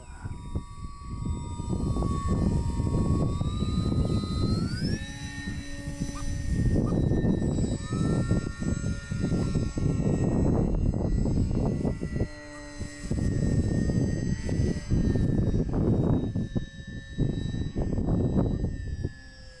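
RC model Harrier airplane flying nearby, its high electric whine shifting in pitch as it hovers and moves, steady and loud throughout with brief dips.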